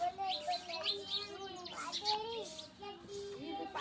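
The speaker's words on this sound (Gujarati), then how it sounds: "ઓલા ચકલા આવે છે ચણી ખાવા" Sparrows chirping in busy bursts of short tweets, fairly close, with faint voices of people in the background.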